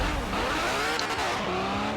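A Ferrari 599XX Evo launches in a Forza Horizon 4 drag run, its engine roaring loud and close as revs climb with gear shifts, tires scrabbling under the continuous howl.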